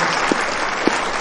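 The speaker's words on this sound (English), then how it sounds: "Give him a round of applause" Steady applause from an audience at a film event, a dense even wash of clapping with a couple of sharper individual claps standing out.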